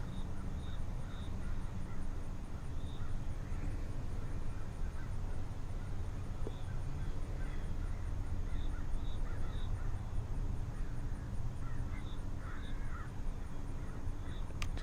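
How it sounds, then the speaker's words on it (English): Crows caw now and then from somewhere behind, mixed with mockingbird and blue jay calls, faint over a steady outdoor background hiss. "Mockingbirds and that murder of crows out behind me."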